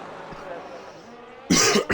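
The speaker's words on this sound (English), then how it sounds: "Sorry if I cough a bit tonight, guys." Two loud, close coughs come in quick succession near the end, after a stretch of quiet background murmur during a sim racing stream of a Miami race.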